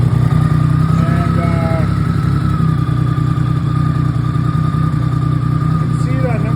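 BMW K75 motorcycle engine idling steadily at just under 1500 RPM with the choke off, a continuous close hum that stays even throughout.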